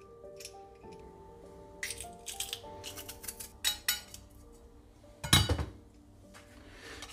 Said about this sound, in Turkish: Burada çırpıcı değil, çatal yardımıyla yoğurdu suyla birlikte dövüyorum.